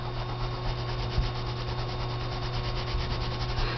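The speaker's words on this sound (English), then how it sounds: "You want to get all that paper off of there." Steady fingertip rubbing of damp paper off an image transfer coaster, a continuous close soft scrubbing with faint rhythmic pulses and a low hum beneath, no talk.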